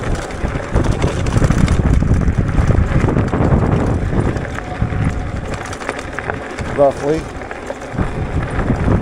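Strong, gusty wind buffets the microphone while a rider pedals a Wooken e-bike through bad weather, a steady roaring rush throughout with a brief spoken word near the end.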